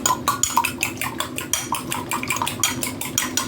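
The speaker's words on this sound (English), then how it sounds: "You're going to beat that together." Pancake batter with vanilla extract whisked briskly in a bowl, a fast, regular run of clinking metal-on-bowl strokes, close and fairly loud, with nothing else over it.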